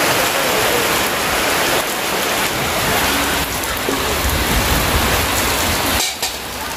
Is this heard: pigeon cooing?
no